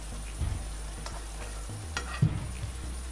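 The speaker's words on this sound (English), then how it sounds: "Wow, it's nicely sizzling." Potatoes and aubergine sizzle steadily in a pan for a curry, a soft constant frying hiss with a few faint stirring knocks, close but quiet.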